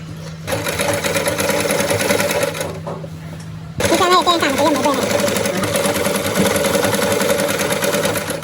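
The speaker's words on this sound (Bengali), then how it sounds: "সেম ভাবে ফ্রন্ট পার্টটাও এভাবে সেলাই করে নিয়ে নিতে হবে।" A sewing machine stitches kurti fabric made from tissue cloth. It runs as a loud, steady, close mechanical whir, eases briefly in the middle, then resumes at full speed and holds to the end.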